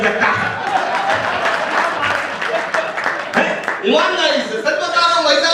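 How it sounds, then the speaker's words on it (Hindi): Audience at a Hindi comedy poetry gathering claps loudly and steadily, a dense close wash of applause that carries on under a voice speaking over it throughout. "एक बार उनके सम्मान में जोरदार ताली बजा दीजिए।"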